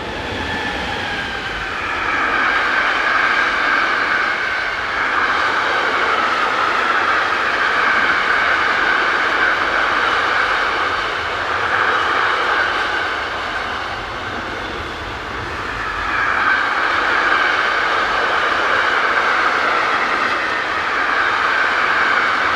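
Train hauled by electric locomotive 386017 passing on a German main line west of the junction at Groß-Gleidingen; a steady, loud rolling rumble and rail noise sustained throughout, dipping briefly midway before swelling again, with no talk.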